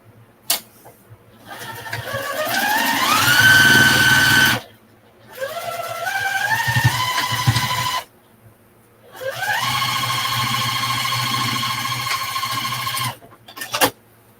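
A sewing machine stitches a piece of fabric in three sustained runs with short pauses between, its motor whining steadily and up close.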